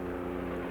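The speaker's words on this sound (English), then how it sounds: "I guess this means the helicopter's landing" Helicopter landing in the 1965 film Monster a Go-Go, a steady low rotor and engine drone heard up close, continuous and loud with no talk.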